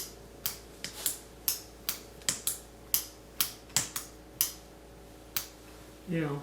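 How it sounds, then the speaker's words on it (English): Swiss 1882 Ordnance revolver mechanism clicking as a spent case is pushed out and the trigger pulled, sharp separate metallic clicks at an uneven pace over a faint hum, ending in a brief scrape. "Push the case out, pull the trigger"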